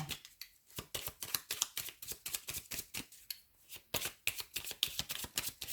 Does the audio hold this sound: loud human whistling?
no